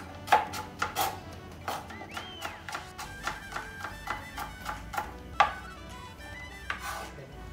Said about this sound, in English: Make it fine chop because it will look more nice.